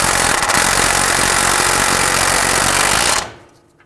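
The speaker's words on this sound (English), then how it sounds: "Using a 22mm socket, I want to go ahead and snug down this bolt or the nut." An impact wrench with a 22mm socket snugs down a tie rod nut on a 2004-2009 Dodge Durango, rattling loud and continuous for about three seconds, then stopping abruptly.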